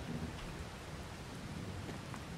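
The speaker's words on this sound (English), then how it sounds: "bit of rain today" Rain falls in the farming video game Farming Simulator 22, a faint, even hiss of steady rainfall with scattered drop patter that runs throughout and is heard alone with no talking.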